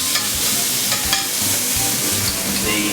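Peeled tomato frying in a hot pan, a loud, dense, continuous sizzle with occasional stirring scrapes, heard up close with no one speaking.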